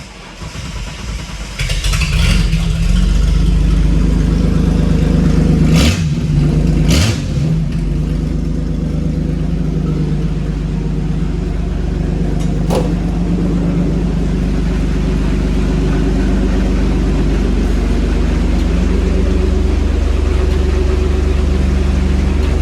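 A Holden VS Commodore ute engine roars to life and revs hard a couple of times, then drops into a loud, steady idle that rumbles on for a long stretch, with rain outside.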